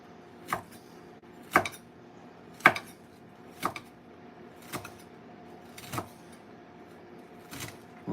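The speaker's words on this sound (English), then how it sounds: "I'm just going to start chopping it up." Knife chopping ingredients for New Orleans-style BBQ shrimp on a cutting board: seven sharp, evenly spaced thwacks about one per second, close and distinct over a quiet kitchen background.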